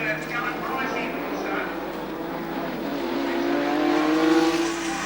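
A touring race car in the 1986 Castrol 500 at Sandown pulls into the pit stop, its engine a continuous droning roar that swells slightly toward the end, heard under commentary.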